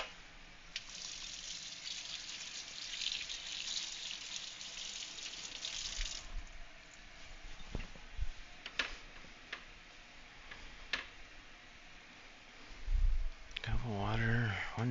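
Water pours into a one-cup measure in a home kitchen, a steady gushing stream for about six seconds, followed by scattered clicks and taps of kitchenware, with a voice speaking briefly at the end.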